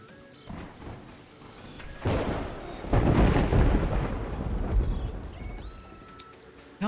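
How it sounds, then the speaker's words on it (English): Rain and thunder in a video game: a steady rain hiss swells into a loud, rolling thunder rumble that builds sharply and lingers before fading, with game sounds chirping faintly in the background. "Oh good, it's raining."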